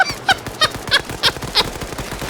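Automatic gunfire in the Arma 3 video game, a fast rhythmic burst of about seven sharp, loud, close shots in quick succession.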